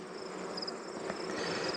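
Bees hum steadily around a pollen feeder beside hive nucs after days of rain, a soft continuous buzz with no voices.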